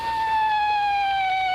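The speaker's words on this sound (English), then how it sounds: "that's the sound of a 155mm shell going overhead." A 155mm artillery shell whistles overhead, a thin falling tone that glides slowly downward for about a second and a half, moderately faint over a low background rumble, with no voices.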